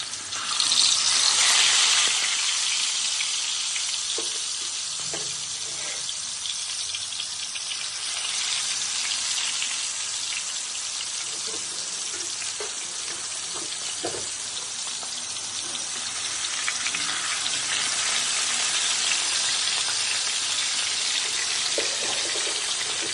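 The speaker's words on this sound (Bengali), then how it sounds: "এখন গরম করা দরকার আমি একটু করে সব মাছগুলো দিয়ে আমি ভেজে নেবো" Pangas fish fries in a hot pan, giving a steady, loud, hissing sizzle that runs unbroken throughout with no talking.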